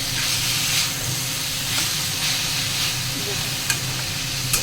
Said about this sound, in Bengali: ভালো করে নেড়ে চেড়ে ভাজা করবো।